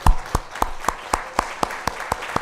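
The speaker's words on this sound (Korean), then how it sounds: "박수로 한번 환영합니다." A church congregation at a Thanksgiving Sunday service claps in welcome, with evenly spaced, distinct sharp claps in a steady rhythm, close and clear over a quiet room.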